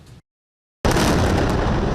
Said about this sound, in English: Relentless explosions and panic in the streets as Israel fights back.